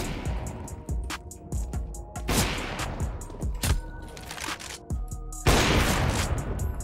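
Gunfire in a Counter-Strike-style shooter match: sharp, rapid game gunshots and short bursts fire in quick clusters, loud and close, with brief lulls between volleys and no talk.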